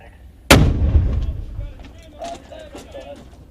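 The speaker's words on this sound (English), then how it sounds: "Let's get that first round down range." A single army artillery round fires with a sudden heavy boom close by, its low rumble rolling and decaying over about a second, followed by faint voices.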